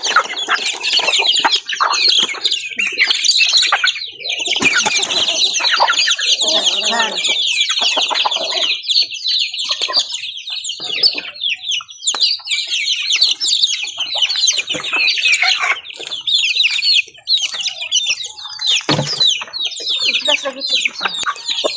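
Many chickens clucking and squawking close by, a busy continuous chatter, with occasional voices mixed in underneath.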